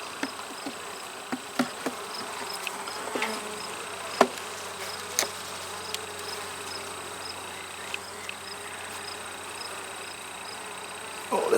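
Honey bees buzz steadily around frames lifted from a hive, a dense continuous hum with scattered sharper passes of individual bees, a few light clicks and knocks of hive equipment, and no talking.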